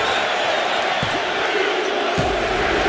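A WWE 2K25 wrestling arena crowd sends up a dense, continuous roar of noise that holds steady throughout, with a couple of faint thuds underneath.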